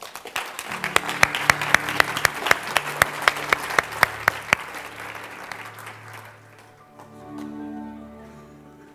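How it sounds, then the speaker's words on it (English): Applause rings out in a conference plenary hall at a summit, with crisp distinct claps for several seconds before thinning out and giving way to a soft sustained musical tone. "Give him a round of applause."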